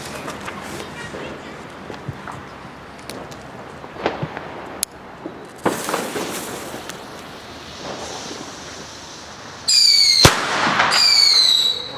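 Several firework bangs and crackles pop at irregular intervals, some sharp and close, ending in a louder burst with whistling, crackling sparkle.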